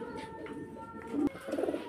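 Afsan grizzle pigeons, an adult kept with two young birds, coo softly and close by over a low background murmur for a couple of seconds.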